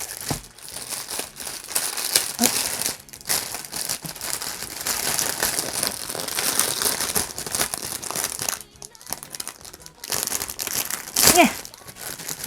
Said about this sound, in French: Ah, c'est emballé, donc du plastique dans du plastique.